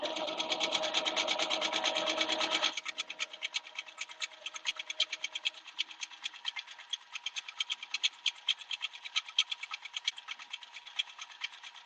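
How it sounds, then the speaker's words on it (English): A sewing machine stitches in manual mode at a quilting event, its needle clattering in a fast, even rhythm; a louder motor hum drops away after a few seconds, leaving crisp, close, repeating ticks. "So here is just some stitching done in the manual mode."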